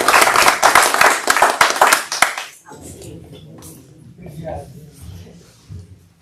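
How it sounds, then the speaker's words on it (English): A council meeting audience gives a loud burst of clapping that lasts about two seconds and then stops, followed by low murmuring and room noise. "Let's give them a big round of applause."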